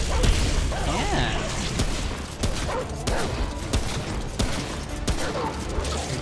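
Gunfire in the video game Remnant: From The Ashes, repeated sharp shots and bursts in an irregular rhythm over a noisy rumble, with occasional voices in the mix.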